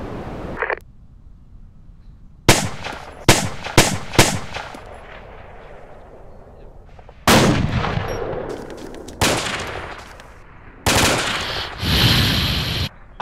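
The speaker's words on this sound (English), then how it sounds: "Chuck, stop shooting over our heads" Gunfire in the video game Arma 2 during a night fight: loud, sharp single shots and rapid bursts close by, separated by quieter gaps, with longer sustained volleys later.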